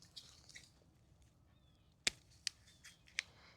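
A rosemary stem is cut on a rosemary bush in a quiet setting, giving three sharp, isolated snips spaced apart with faint background rustle and no talking.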